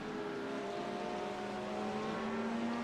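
A Porsche race car at Watkins Glen holds a steady engine drone throughout, a sustained tone with no talk over it.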